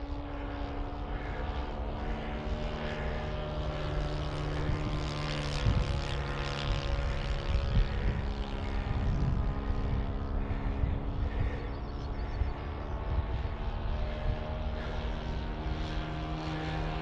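A large balsa H-King PC6 Porter radio-controlled model plane flies with a steady, droning propeller engine, holding a constant pitch and level throughout, fairly close and without voices.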